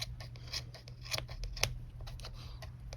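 Scissors snip repeatedly around a round yarn pompom as it is trimmed, crisp close cuts in an irregular rhythm over a low steady hum.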